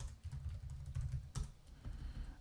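Steady clatter of typing on a computer keyboard during a coding session, close and fairly quiet, with one sharper keystroke near the middle and no talking.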